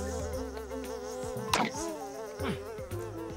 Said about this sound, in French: Si je veux pouvoir attraper ces mouches